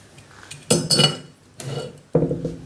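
A metal input shaft housing fitted with a taper bearing and oil seal is pushed into a motorbike outboard bevel gearbox, giving three bright metallic clinks and scrapes close up, separated by short pauses.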